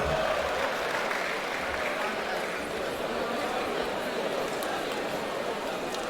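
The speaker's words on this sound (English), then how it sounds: "Please give her a round of applause" Fresh students at a university orientation applaud and chatter in a large hall, a fairly faint, steady wash of clapping mixed with crowd murmur and a little laughter.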